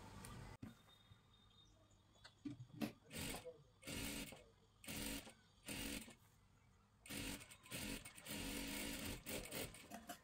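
A sewing machine stitches a round neckline on a kurti, running in short bursts of rapid mechanical whirring separated by pauses, close and fairly loud, with a longer continuous run at the end.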